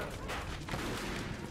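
A short, dense burst of gunfire in the Mafia II video game, a muffled continuous volley of overlapping shots at moderate loudness.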